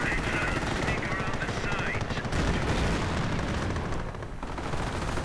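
A .30 caliber machine gun fires in a video game battle, a steady rattling stream of shots heard continuously under game noise and a commentator's voice.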